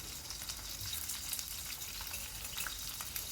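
Potatoes fry in oil, mustard oil or white oil, for a vegetarian alur dom, giving a steady, dense sizzle with small crackles throughout and no voices.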